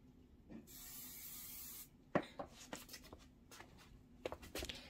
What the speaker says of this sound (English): So I'm going to take this over to my spray box.